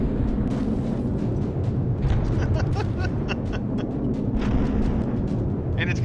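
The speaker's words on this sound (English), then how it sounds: "If you do, you will explode." A dense, continuous rumbling roar of explosions and gunfire fills a tank battle in the video game From The Depths. It stays loud and steady throughout, with sharper bursts and cracks popping through the din.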